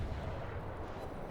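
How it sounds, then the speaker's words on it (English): A battleship in the World of Warships naval combat game fires high-explosive shells, a dense, rumbling artillery blast that fills the short moment with heavy low booming and no speech. "The Congo puts out a vicious blast of high explosive"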